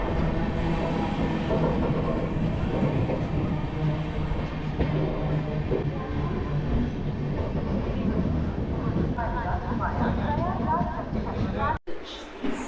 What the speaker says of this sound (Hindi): ये ट्रेन थी जिससे अभी हम आए प्रयागराज से मिर्ज़ापुर